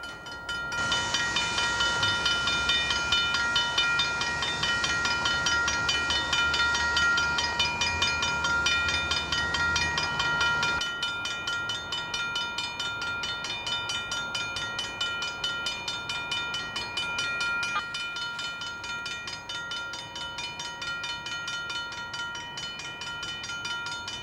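A double stack freight train rolls past on an Iowa main line, a steady loud roar of wheels and rail noise with a persistent high squeal that drops somewhat in volume partway through as the cars keep passing.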